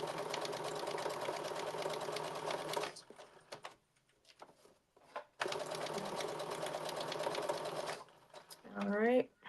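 A home sewing machine back-stitches on a blazer, humming in two sustained loud runs separated by a quiet gap with faint voice and handling, and a brief tonal sweep near the end.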